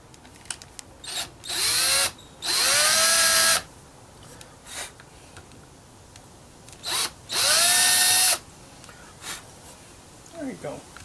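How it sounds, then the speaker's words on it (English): A power drill whirs in several loud bursts, revving up and down as it bores holes, with short pauses between runs. "I'm going to drill them out to about a 3/16"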